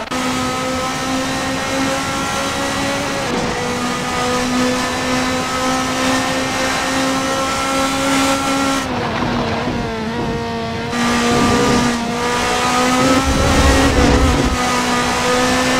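Racing video game car screaming around Interlagos on a flying lap, a loud steady high-revving engine note with upshifts and downshifts, brief lift around the braking zones, close and continuous with no talking.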